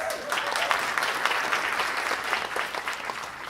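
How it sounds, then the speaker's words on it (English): Steady applause from a live audience at a law revue comedy quiz show sketch, dense clapping filling the moment without a break, with some faint voices mixed in. "Ladies and gentlemen, a round of applause."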